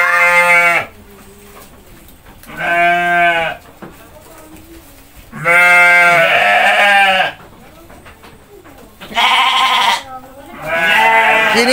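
Goats being fed bleat loudly and close by in four or five long, wavering calls separated by short quiet gaps.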